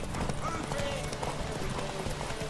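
A horse trots along in The Witcher 3, its hooves clip-clopping in a quick steady rhythm beneath a busy layer of game sound and a talking voice, moderately quiet overall.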